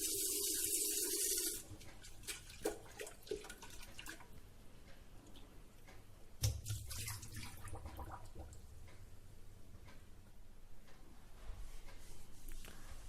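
A Prestige electric kettle being washed under running water, with a loud tap gush at the start, then quieter trickles, drips and sloshing handling sounds, one sharp knock midway, no speech.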